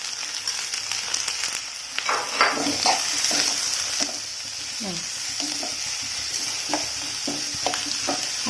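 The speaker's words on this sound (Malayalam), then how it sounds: "ഇതിലേക്ക് നമ്മൾ അരിഞ്ഞു വെച്ചിരിക്കുന്ന സബോള ഇട്ട് കൊടുക്കണം" Thinly sliced onion goes into hot oil and fries, a loud sustained sizzle with scraping stirs and crackles, close up and without speech.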